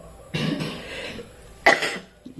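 Two harsh, close coughs separated by a pause, the second one sharper, with a faint hiss of room noise between them.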